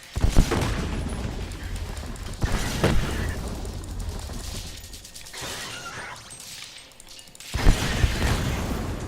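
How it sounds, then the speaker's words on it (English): Dull, muffled booms and rumbling blasts from nearby explosions in the game Iron Brigade roll through a noisy, chaotic soundscape, with a couple of sharper thumps standing out. "there's a sound dampening effect when you're too close to those explosions"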